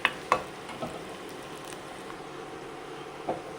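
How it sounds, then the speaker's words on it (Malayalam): Onion, garlic and curry leaves fry in a clay pan, a soft continuous sizzle heard up close with a few sharp clicks of stirring near the start and once near the end, no voices. "ഉള്ളിയും വെളുത്തുള്ളിയും മൂത്ത് വന്നിട്ടുണ്ട്."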